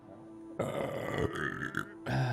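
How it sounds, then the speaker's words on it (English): A single long, close burp during a late-night painting stream, rising abruptly and rumbling for over a second, then cutting off. "Burp 3?"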